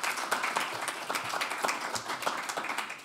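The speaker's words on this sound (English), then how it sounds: "please applaud" An audience claps steadily at a talk event, a dense even patter of many hands sustained throughout at moderate distance, with no voices over it.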